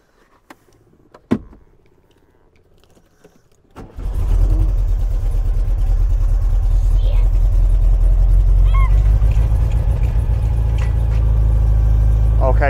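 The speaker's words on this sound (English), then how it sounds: "why don't we start the engine and see if the horn works then?" A few clicks and clunks, then an old air-cooled classic Volkswagen Beetle engine cranks and catches, settling into a loud, steady idle that runs to the end.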